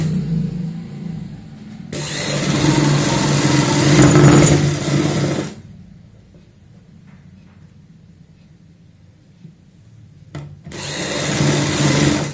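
A sewing machine stitching a half-inch shoulder seam joining the front and back of a kurti, running in two loud steady whirring bursts separated by a quiet pause with faint handling.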